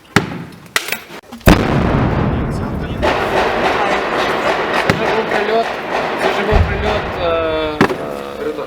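Automatic grenade launcher or RPG fire in a shelled industrial zone: several sharp, heavy blasts, some close and loud and others more muffled, break through a rumbling background while people talk nearby.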